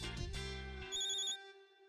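A phone rings as an outgoing call is placed: a short electronic ringtone melody of bright tones stepping through a few notes, with a brief higher chime near the end, then fading into silence.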